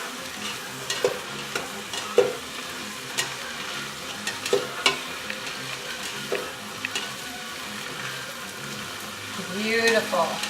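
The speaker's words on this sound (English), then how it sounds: "Just give them a quick stir." Ground turkey fries in a pan for chili and gets stirred, a soft continuous sizzle broken by scattered scraping and clacking strokes of a utensil, close and fairly quiet, with a brief voice near the end.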